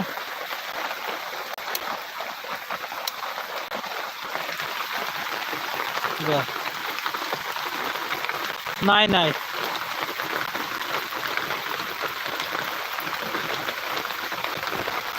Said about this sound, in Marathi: आजपासूनच एवढा पाऊस भयंकर चालू झाला आहे